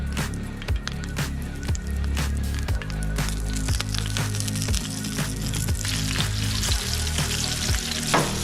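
Food frying in oil on an outdoor barbecue set on a slope, a loud, steady crackling sizzle with dense spitting pops throughout, close up and continuous, with no voices.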